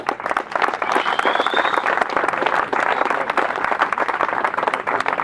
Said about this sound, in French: je voudrais un tonnerre d'applaudissements pour eux